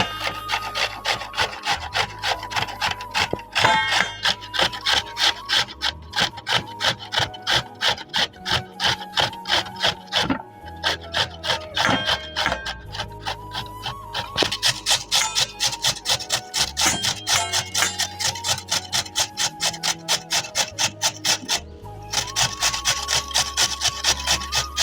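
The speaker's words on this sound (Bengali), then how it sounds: "এখন একটা গ্রেটার নিয়েছি।" Radish being grated on a hand grater in a home kitchen, a steady rhythmic rasping of rapid back-and-forth strokes, close and continuous with brief pauses, no talking.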